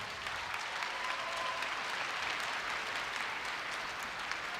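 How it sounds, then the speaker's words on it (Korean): A large audience applauds at a Korea University entrance ceremony in 2016, a sustained, even wash of many hands clapping in a big hall with no break. "큰 박수 부탁드립니다."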